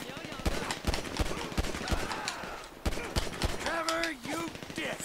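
Gunfire in the video game GTA 5 on PS3: a rapid series of sharp shots in bursts, close and loud, mixed with other game effects and a rising synth-like tone, while people talk over it.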